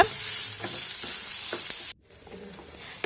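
Chopped onion and tomato sautéing in a pan for a cowpea masala curry, a close, steady sizzle with a few spoon scrapes, then a brief cut to quieter frying.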